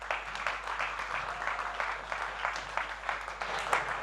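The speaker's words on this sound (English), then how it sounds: "Please give a round of applause." An audience claps at a business talk event after a gelato shop owner is introduced, a fairly faint, steady patter of many hands in a room, with no voices over it.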